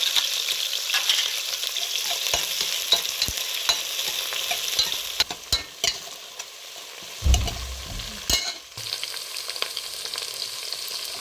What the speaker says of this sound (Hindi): प्याज को अच्छे से फ्राई करना है।